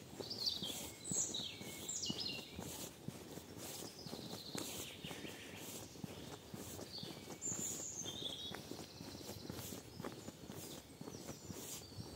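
Birds chirp and sing in a countryside forest near a river, with bright, scattered calls over steady footsteps crunching along a path.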